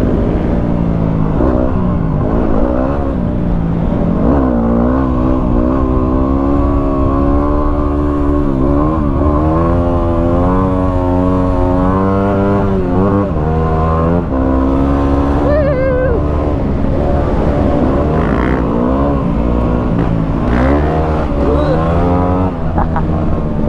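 A Yamaha WR250R motorcycle engine revs hard and continuously during wheelies, loud and close, with rising and falling pitch as the throttle is worked, on and off through the whole stretch.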